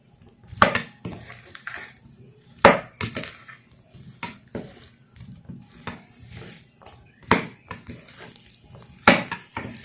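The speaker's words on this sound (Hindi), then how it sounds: "दो चम्मच लेकर इस तरीके से उल्ट पुल्ट करेंगे, ताकि हर तरफ मसाला चला जाए।" Two spoons toss bitter gourd (karela) pickle in a bowl, making sharp, irregular metallic clinks and scrapes in bursts, close and fairly clear against quiet surroundings.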